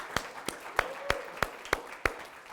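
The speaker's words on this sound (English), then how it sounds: "Give yourselves a round of applause for making it happen" Slow, spaced claps from an audience at a business motivational talk, about eight sharp hand claps in a steady rhythm, fairly close and separate rather than a full crowd roar, with a faint voice in between.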